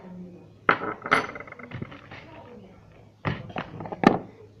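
A spoon clinks against a small pot while slime is being prepared, giving a few sharp metallic taps in two clusters separated by a quieter gap with soft handling noise.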